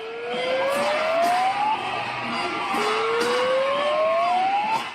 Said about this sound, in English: sirens from those megaphones.